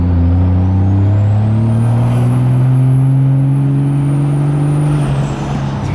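A turbocharged truck engine pulls hard while driving, a loud steady drone rising in pitch as it accelerates, with a thin turbo whistle climbing above it and no talking.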